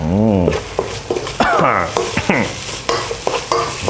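Dried chilies sizzle and fry while being stirred in a pot for Northern Thai beef curry (kaeng om nuea), with close, busy scraping and spitting oil sounds throughout.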